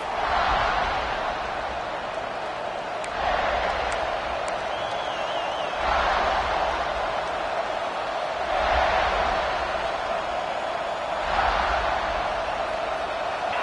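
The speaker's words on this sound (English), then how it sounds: "This crowd ready to make its presence known." A stadium crowd in the NCAA 26 college football video game roars steadily, with broad swelling waves of noise rising and falling in a loud, continuous wash.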